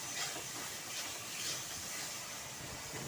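A spice masala fries and sizzles in a pan for an okra dish, giving a soft, steady, even hiss with no talking over it.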